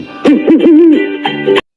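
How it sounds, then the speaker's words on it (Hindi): An owl hoot from a kids' cartoon animal game. A single loud, close, wavering call lasts about a second and a half, then cuts off sharply. "अब बारी है उल्लू की।"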